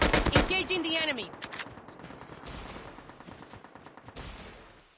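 Gunfire in a Call of Duty Mobile battle royale match, with a rapid burst of loud close shots at the start, then scattered fainter shots and game sounds, with a voice briefly heard.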